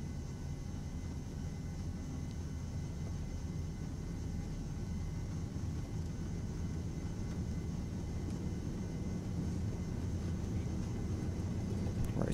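Steady, heavy engine roar from a Ryanair Boeing 737-800 on its takeoff roll at Alicante-Elche, a continuous low rumble that holds nearly constant and builds slightly toward the end, with no voices.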